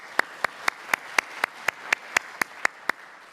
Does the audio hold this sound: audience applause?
yes